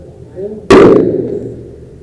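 One sudden loud bang from an airsoft grenade during a night milsim game, followed by a ringing tail that fades over about a second.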